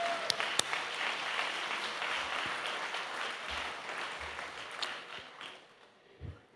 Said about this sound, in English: let's just give those wonderful people a round of applause